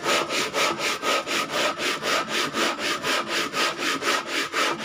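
Front car brake pads being sanded by hand, a steady back-and-forth scraping rasp repeating in an even rhythm about four strokes per second, close and continuous.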